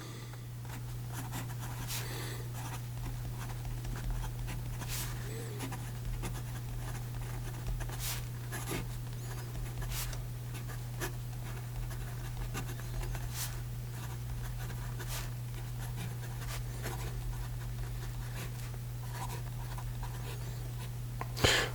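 A steel-nibbed Lamy AL Star fountain pen draws a medium line on paper, giving a soft, steady scratchy scribble with small taps. A low constant hum runs underneath, and no one speaks.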